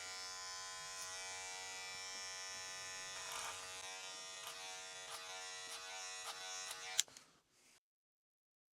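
Electric hair clippers fitted with a 0.5 guard buzz steadily and close up while cutting hair in a skin fade, with periodic soft snips and clicks before the motor cuts off near the end.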